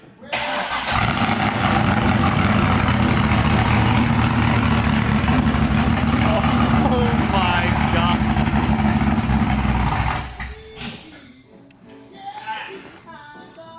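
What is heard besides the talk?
C5 Corvette engine starting and running loud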